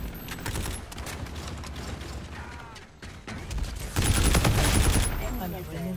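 Gunfire and weapon mechanisms in Call of Duty: Infinite Warfare, a dense layer of shots and mechanical clatter mixed with game effects, growing louder and busier toward the end.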